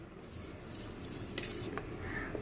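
A spoon scrapes and clinks quietly against a pot while stirring ragi java porridge, a soft, faint series of metallic taps and swishes with no talk.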